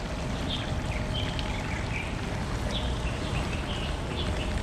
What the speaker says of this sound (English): Plus you have these beautiful fountains right next to the hotel too.